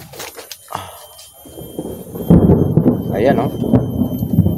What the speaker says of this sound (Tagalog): May kidlat kasi ano guys, umuulan dito. May kulog at kidlat.